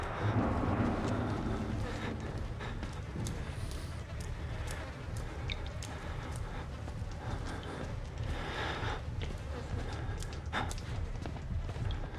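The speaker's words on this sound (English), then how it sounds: "I love how he just like stomps as hard as he can as he's running" Heavy stomping footsteps of a character running in the horror game Outlast, a fast, pounding rhythm of hard thuds continuing throughout under a rumbling ambient background.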